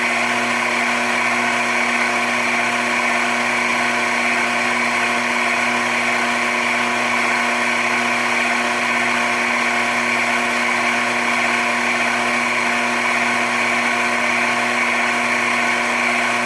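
Grizzly mini lathe spinning at high RPM during break-in, a steady loud whine with strong tonal hum and bright mechanical hiss that holds constant throughout, no voices.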